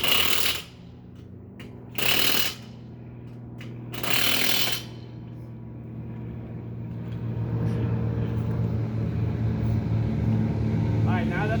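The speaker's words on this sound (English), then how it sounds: "we're going to put the impact on there, we're going to tighten the lug nuts" Impact wrench tightening lug nuts on a car wheel, three short loud bursts of rapid hammering a couple of seconds apart, followed by a steady engine-like hum, with people talking.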